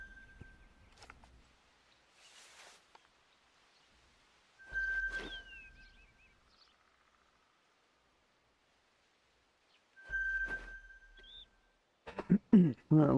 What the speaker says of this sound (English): all this whistling's over